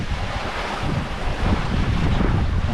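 Wind rushing past and sea waves washing against a sailboat on a crossing to Corsica, a steady broadband roar with heavy low rumble and no talking.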